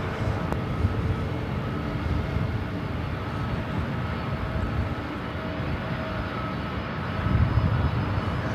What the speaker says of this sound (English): Also had that Delta 767 heading to JFK, now starting taxi.